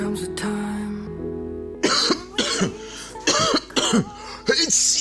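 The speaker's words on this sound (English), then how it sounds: "why sneezing and coughing openly like that?" A quiet hum and a brief tone, then a run of harsh, loud coughs in short bursts close by, with a throat-clearing rasp between them.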